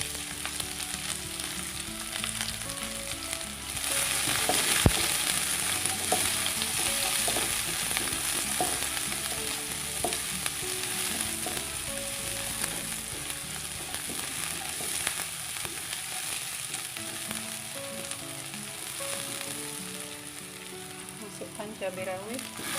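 Shallots stir-frying in hot oil with garlic while bitter melon and egg are cooked, giving a steady, close, loud sizzle and crackle with scraping stir strokes and one sharp knock near the start.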